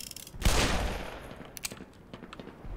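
Magnum revolver fire in the video game Black Mesa, one loud, booming shot with a ringing decay, followed by a couple of fainter sharp cracks.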